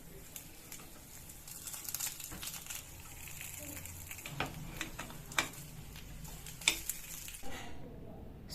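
Moong dal paddu cook in oil in a pan, a faint continuous sizzle broken by scattered clinks and taps of a utensil, fading out abruptly at the end.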